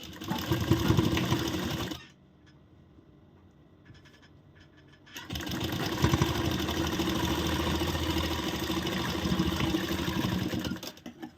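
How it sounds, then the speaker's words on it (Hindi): Close, loud whirring of a sewing machine stitching blouse fabric, with a run, a quiet pause and a second long steady run before a brief tail-off. "और अब यहाँ से हम सिलाई शुरू करेंगे।"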